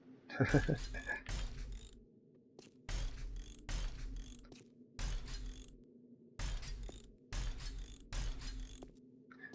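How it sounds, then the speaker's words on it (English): A nail gun in the survival game 7 Days to Die drives into blocks while they are upgraded, giving repeated bursts of mechanical, ratcheting thumps with short pauses between them, under a steady low hum, with no talk. "Nail gun's got good bass. You can hear it every time you upgrade."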